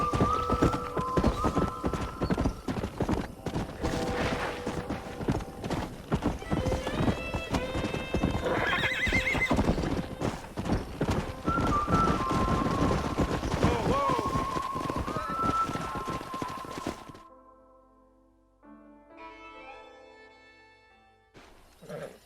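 In the video game Red Dead Redemption, hooves pound in a fast, continuous clip-clop as horses gallop, with several shrill neighs rising over them, before the noise drops off to quieter sounds near the end.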